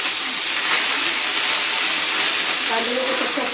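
Grated onion sizzling in hot oil in a pan while cooking taro root curry, a steady bright frying hiss close up and fairly loud throughout, with faint kitchen clatter near the end.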